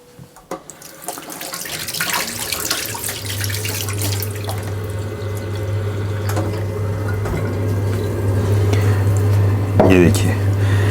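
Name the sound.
stirring water into tomato seed puree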